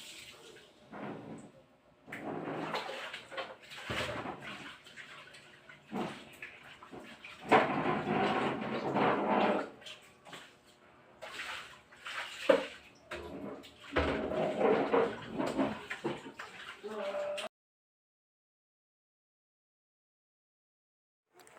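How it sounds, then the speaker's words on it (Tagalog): Running water and scrubbing in a kitchen sink as it is soaped and rinsed clean, a steady splashing wash with bursts of clatter over about seventeen seconds, then silence. "At hinuhugasan ko na nga po dito ang lababo. Sinasabunan ko po at binabanlawan para malinis po."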